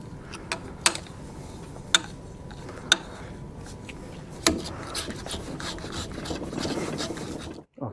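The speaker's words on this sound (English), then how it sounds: "we're just going to pop in the hacksaw around it to get rid of the rest of the rubber" A hacksaw rasps back and forth through a tough rubber suspension bush on a front lower arm, interrupted by several sharp knocks and clicks, then settles into steady scraping strokes before stopping abruptly.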